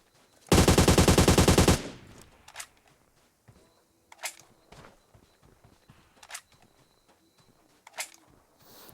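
Video game gunfire rips out in a loud rapid automatic burst lasting over a second, then gives way to scattered single sharp shots and soft footsteps at a distance.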